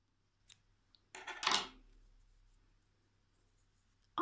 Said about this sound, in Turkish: bir tane de zincir çekip sıkıştırıp makasımla kesiyorum